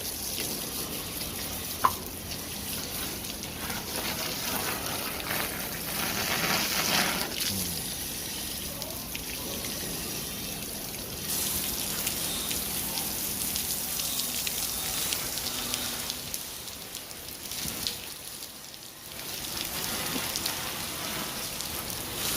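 Water from a hose sprays steadily over a horse being bathed, a continuous hissing splash that dips and changes as the stream moves, with a few faint knocks in the background.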